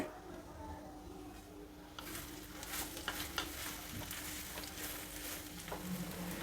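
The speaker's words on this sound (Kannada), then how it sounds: "ಈಗ ಹೀರೆಕಾಯಿ ಹಾಕ್ತಾಯಿದ್ದೀನಿ ಹುರಿಬೇಕು ಇದನ್ನು ಚೆನ್ನಾಗಿ" Ridge gourd pieces fry in about three teaspoons of oil and are stirred, giving a soft, steady sizzle with scraping stirs that grow a little livelier partway through, quiet and close.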